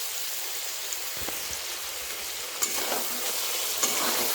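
A spoon stirs raw green mango pickle with melted sugar in a pan. Soft sizzling and scraping run steadily throughout, with a few sharper clinks of the spoon against the pan.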